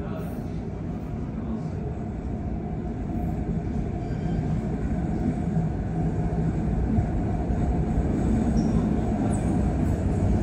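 An MBTA Green Line train on the Medford Branch pulls into a station with a steady, rising rumble of wheels and motors that grows louder as it nears, with a voice talking over it.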